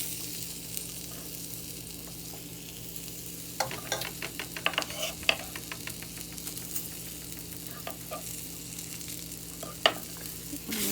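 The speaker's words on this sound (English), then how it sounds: "now I'm going to go ahead and add the onion." Onion added to a pan for Mexican red rice sizzles steadily, with a run of sharp crackles and stirring clicks after a few seconds, heard close and moderately quiet with no talking.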